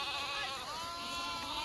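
A sheep from a flock of ewes with lambs, many of them twins, gives a short, fairly faint bleat that wavers in pitch against a quiet outdoor background.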